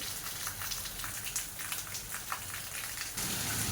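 Steady rain falls and patters on surfaces during a sunny spell, a constant close hiss with scattered drops and no talking.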